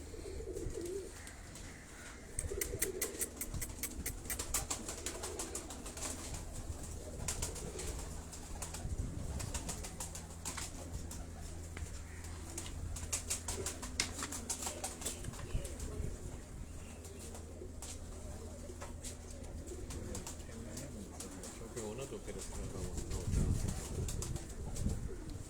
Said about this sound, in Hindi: ये अगर आप देखें इस कबूतर को